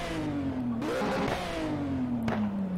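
A race car's side-mounted exhaust in Shift 2 Unleashed roars loudly as the engine revs rise and fall, with a sharp backfire crack near the end.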